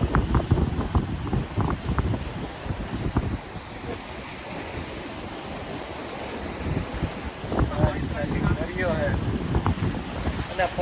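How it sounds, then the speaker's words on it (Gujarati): Cold wind sweeps across Porbandar beach, buffeting the microphone with steady rough noise over the wash of surf, and a voice speaks briefly near the end. "અને પવન એટલે ઠંડો પવન જ આવે."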